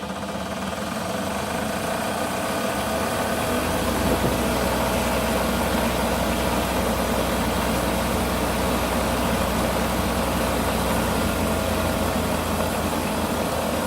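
A treadmill motor driven by an Arduino and Raspberry Pi controller runs at about 3800 rpm, a steady loud whine and hum holding constant throughout with no pauses or speech.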